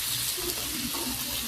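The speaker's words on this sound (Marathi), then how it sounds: "फक्त 2 मिनिट यामध्ये परतून घेऊयात आपण मसाल्यामध्ये." Boiled potatoes and cauliflower sizzle in a spice mix while being stirred, a dense, even frying hiss with soft scraping throughout the short stretch.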